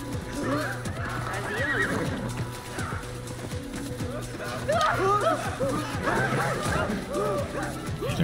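Horse neighing in the video game Assassin's Creed Mirage, several whinnies and snorts recurring through a busy game soundscape with hoof clatter and a steady low hum, moderately loud and close.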